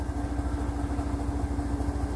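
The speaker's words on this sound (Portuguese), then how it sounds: "Está centrifugando." Midea inverter washing machine on its spin cycle, running off an Epever IP500 off-grid solar inverter: a steady, close, low motor hum with a fast, even pulsing throb and no voices.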